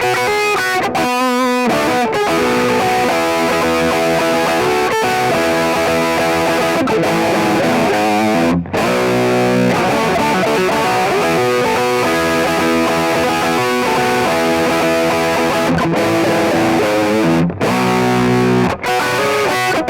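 Distorted electric guitar through a Line 6 Helix set for a tone with mid-range bite, upper-mid grit and reverb, playing loud, sustained notes and chords continuously with a few brief breaks.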